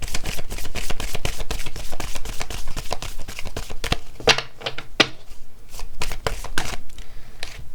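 Tarot cards being shuffled and handled in rapid, steady riffles and taps, close and continuous, with a brief pause partway through before the flicking resumes.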